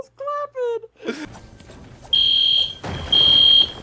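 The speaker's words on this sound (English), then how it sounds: "Someone set off the fire alarm in the dorm." A dormitory fire alarm blares in two long, piercing electronic tones, the first following a brief stretch of sung or spoken voice and a clatter.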